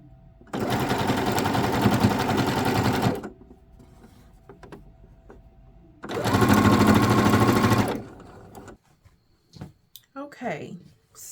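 A sewing machine stitching lace onto a pair of shorts runs in two close bursts of rapid whirring, each a few seconds long, separated by quiet handling noises, with brief speech at the end.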